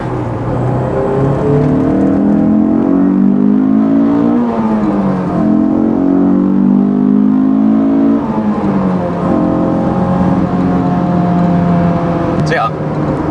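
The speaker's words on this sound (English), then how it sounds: "you can really ring out the engine in this car without going jail speeds" Honda S2000 engine revving up through the gears while accelerating, a loud sustained rising engine note with pitch climbing, dropping at shifts, then climbing again across the run, heard from inside the car.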